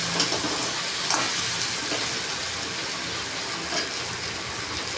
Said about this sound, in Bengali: মশলাটা এই যে কষা হয়ে গেছে, এবার মাথাগুলো ছেড়ে দেবো।